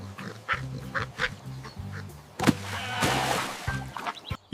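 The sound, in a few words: cartoon duck quacking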